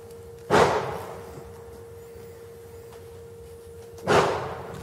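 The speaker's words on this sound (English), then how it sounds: "That is a gun." Two distant gunshots about three and a half seconds apart, each a sharp crack with a short fading tail over quiet outdoor background and a faint steady tone.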